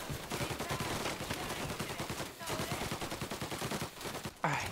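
Dense, rapid bursts of gunfire from Mafia: Definitive Edition crackle almost without pause, loud and close, with a brief lull midway before the shooting resumes.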